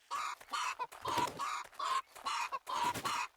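A chicken in the 7 Days to Die video game clucks in a series of close, loud, rhythmic bursts with short gaps between them, heard alone without talk.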